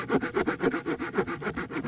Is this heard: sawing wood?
yes